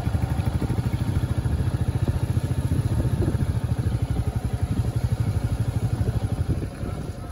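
A Royal Enfield Meteor 350 single-cylinder engine runs in first gear on a hill road with barely any throttle, giving a steady, close, low-pitched thumping beat that stays even throughout.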